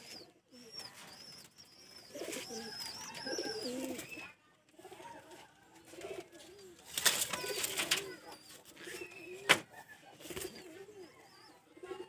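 Pure white pigeons, a larger male and a shorter female, coo in a loft with soft bird calls and a few wing flaps, while someone talks intermittently nearby.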